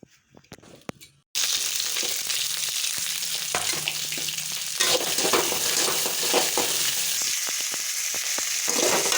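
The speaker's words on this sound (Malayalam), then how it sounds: "വെളിച്ചെണ്ണ വെച്ച് ഉണക്കമുളകും മല്ലിയിലയും ഇഞ്ചിയും സബോളയും എല്ലാം കൂടി ഇട്ടൊന്ന് വാട്ടിയെടുക്കുന്നുണ്ട്" Dried chili, coriander leaves, ginger and onion go into hot coconut oil. After a near-silent start, a loud, dense sizzle takes over and stays constant, with scattered crackles and stirring scrapes.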